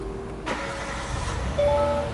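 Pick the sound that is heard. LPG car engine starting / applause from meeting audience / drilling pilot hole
LPG car engine starting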